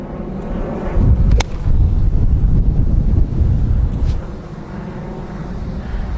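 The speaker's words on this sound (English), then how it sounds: "The wind's coming across about 40 k's." Strong wind blows at about 40 km/h across an open golf course, a loud continuous low rumble buffeting the microphone with gusty surges and a couple of brief sharp knocks, no voices.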